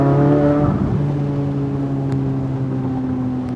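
Corvette C8 Z06 exhaust roars loudly as it revs while driving, the pitch dropping as the throttle eases, then settling into a steady, fading drone with no voices.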